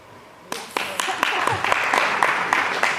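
Audience clapping at a talk on diabetes and disease reversal, starting abruptly after a quiet moment with a few sharp claps and building into sustained applause.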